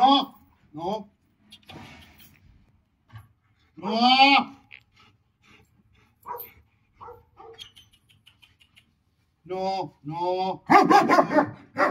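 A nearby dog gives short whines and yips in scattered bursts, refusing a muzzle, with a person talking between them in a quiet room.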